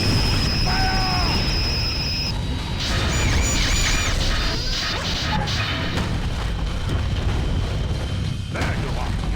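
Cannon fire and heavy crashing in a Godzilla video game: a dense run of loud booms and smashes with electronic tones and game effects layered throughout.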